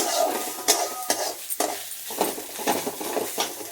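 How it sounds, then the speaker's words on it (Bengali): Ginger paste frying in a pan while being stirred, a close, loud crackling sizzle broken by repeated scraping strokes of a utensil against the pan, no voices. "এবারে দিয়েছি আদা বাটাটা আদা বাটা দিয়ে ভালো করে নিয়ে নিচ্ছি"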